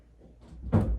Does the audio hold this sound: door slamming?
yes